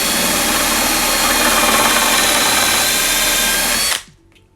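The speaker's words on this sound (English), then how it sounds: "I'll change now to a bigger drill bit. This one is 8mm, and you can see I put a stopper there." An electric drill fitted with an 8mm bit and a depth stopper bores a hole into a wooden stair tread, a loud steady whine that runs unbroken for about four seconds before stopping abruptly.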